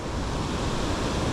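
The New River rushing over Sandstone Falls in high water, a dense, continuous roar of churning water that stays loud and even throughout, with no voices.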